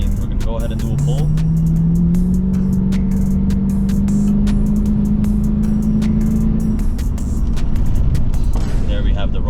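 A Hellcat-swapped supercharged Lexus car roars through a full-throttle pull with a steady rising engine note and supercharger whine, loud and close from inside the cabin, with rapid clicking beneath.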